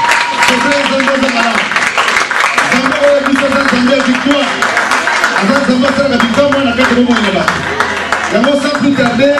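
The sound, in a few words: congregation applauding and cheering for the glory of God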